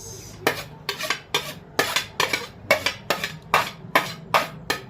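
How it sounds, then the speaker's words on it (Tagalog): Garlic and onion stirred in a metal pan with a utensil, about a dozen sharp scraping clanks in an uneven rhythm, close and fairly loud, no talking. "Pag-halu-haluin lang natin muna yung mga ingredients na bawang,"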